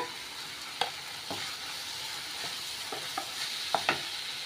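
Vegetables being stir-fried in a pan for wheat-flour veg noodles, a soft steady sizzle with several light clicks and scrapes of the spatula against the pan, fairly quiet and close.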